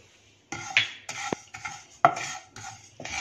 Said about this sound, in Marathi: यामध्ये आपण आता प्रथम मसाले भाजून घेऊया